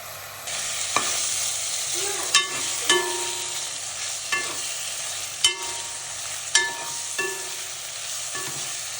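Ginger-garlic paste sautéing in a hot pan, a constant bright hiss broken by intermittent spoon scrapes and taps as it is stirred, close and fairly loud with nobody talking.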